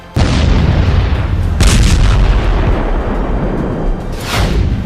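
A loud, rumbling missile blast with a sudden onset, followed by a sustained roar and a second burst, like a heavy explosion close by.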